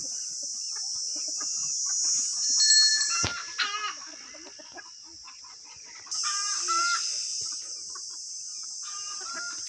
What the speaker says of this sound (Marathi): हे आपल्या शेतातल्या कोंबड्या।